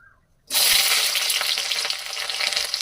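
Ingredients hit hot oil in a pan with a sudden loud sizzle after a brief quiet moment, then a steady, dense crackling frying hiss that carries on for the rest of the clip with no talk.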